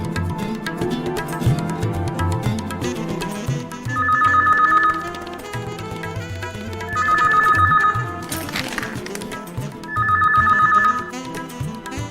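A telephone rings three times in spaced bursts over background music, each ring a bright repeated trill.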